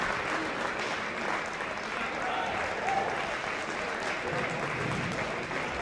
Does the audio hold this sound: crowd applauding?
yes